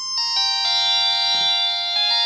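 Polyphonic two-oscillator wavetable synth patch on a Novation Circuit plays sustained bright chords with rich stacked harmonics, each new chord entering with a soft attack and ringing on steadily, heard alone without talk.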